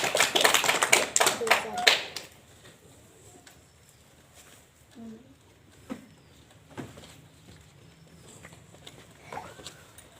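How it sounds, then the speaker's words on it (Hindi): Children in a classroom clap together in a brisk burst of applause lasting about two seconds, then fall quiet apart from a few scattered claps and soft voices in the room. "तो अच्छी लगी हो तो ताली बजाएंगे सब बच्चे।"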